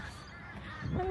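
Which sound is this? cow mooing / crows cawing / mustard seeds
crows cawing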